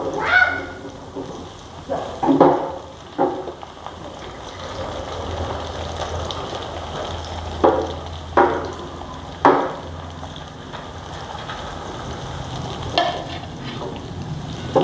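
Kothimbir vadi, a coriander batter, sizzles and bubbles in hot oil in a home kitchen, a steady fry noise broken by a few louder splashes as pieces are added or turned.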